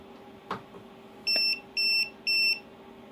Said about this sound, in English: gives you a beep to let you know that it's high voltage